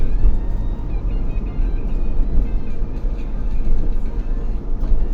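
A car drives along a road through a forest, heard from inside as a steady, close, low rumble of engine and road noise that holds throughout with slight swells.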